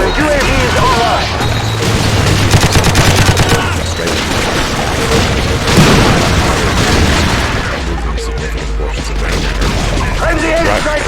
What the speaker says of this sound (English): I'm the airstrike on the way.